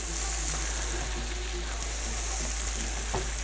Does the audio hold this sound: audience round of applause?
no